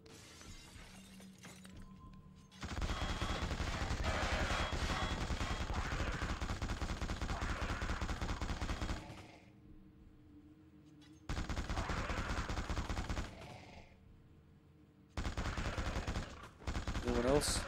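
Dual revolvers firing in The Suffering on PS2: sustained bursts of rapid, loud shots with shattering impacts, broken by short pauses, then two further bursts.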